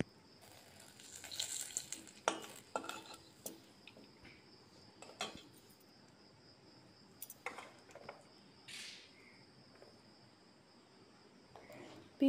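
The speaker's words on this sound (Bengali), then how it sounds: "এখন আমি ওই তেলে জিরে দিয়ে দিব, জিরে তেজপাতা, আর দিয়ে দিব পেঁয়াজ কুচি।" Cumin seeds, a bay leaf and chopped onion go into hot oil in a home kitchen pan. A faint, steady sizzle runs underneath scattered clinks and scrapes of a utensil against the pan, with no talking.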